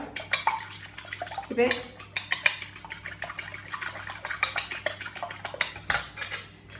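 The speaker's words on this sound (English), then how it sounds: "Then I'm going to whisk my eggs together" Eggs whisked together in a mixing bowl for banana bread, giving a fast, steady run of metallic clinks and scrapes of the whisk against the bowl, with a brief spoken word partway through.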